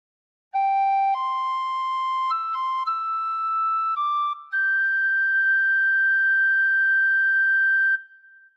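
Tin whistle playing a slow phrase of Amazing Grace, clear pure tones stepping through several notes and ending on a long held note, played alone and close.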